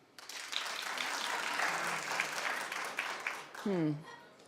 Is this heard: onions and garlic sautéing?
no